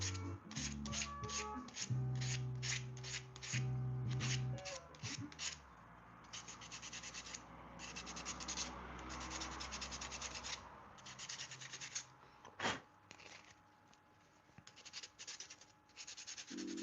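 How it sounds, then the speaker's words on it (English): Hand sanding of hard Wenge wood, with rapid rhythmic rubbing strokes in bursts, close and fairly quiet, continuing with pauses and a sharp knock partway through. "Dude, Wenge is so hard to sand."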